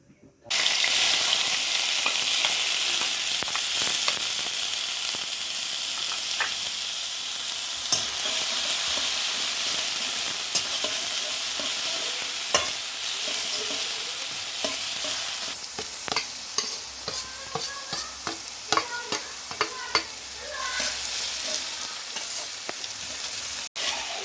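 Meat sizzles and fries in a pan with spices and chopped tomato, a dense steady hiss close by, punctuated by clanking stirring strokes that grow more frequent toward the end.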